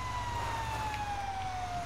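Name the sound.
fire truck siren in video game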